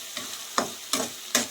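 Chili powder, turmeric and masala fry in oil for Andhra chicken curry, a soft steady sizzle punctuated by four spaced stirring scrapes, close and fairly quiet with no voices.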